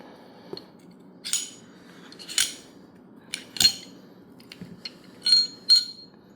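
A Glock G45 pistol barrel is wiggled loose from its slide, giving scattered sharp metallic clicks and clinks. The close, crisp bursts are separated by near-silence.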